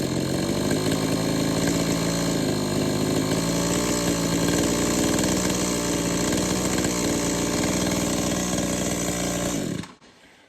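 An old Stihl brush cutter under repair runs loud and close with a steady, buzzing two-stroke drone after its idle screw is adjusted richer, holding even for about ten seconds before abruptly cutting off.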